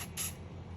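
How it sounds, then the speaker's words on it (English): An aerosol cleaner can gives one short hissing burst of spray into a handgun barrel, brief and fairly close, over a low steady background hum. "Spray inside the barrel."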